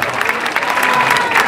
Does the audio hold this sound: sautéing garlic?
no